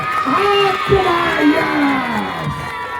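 A crowd cheers and shouts loudly at a Kartikeswara puja gathering in 2025, a dense wash of voices with whoops rising and falling over a few seconds.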